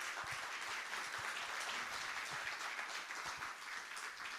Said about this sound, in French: Merci Julie Gaillot, on peut vous applaudir